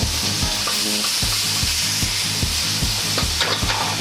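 Close, loud sizzling of seasoned pork in a hot pan for basil stir fry, with regular scraping strokes as it is tossed and stirred, no voices present.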